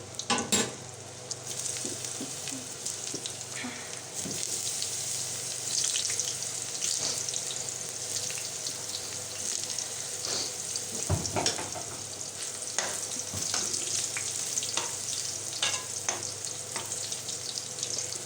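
Meat sizzles and fries steadily in a hot pan while being stirred, with scraping and clinking of the utensil over a continuous loud hiss, close up with no talking, while preparing a beef trotter and potato casserole.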